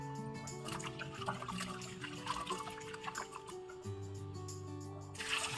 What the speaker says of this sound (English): We will wash it a few times before cooking.